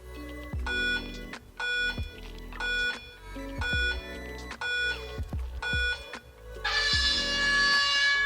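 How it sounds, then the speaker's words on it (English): A race countdown of short electronic beeps at a steady one-per-second rhythm, ending in a longer, higher buzzer tone; no voices. "So there's your countdown lights and your buzzer."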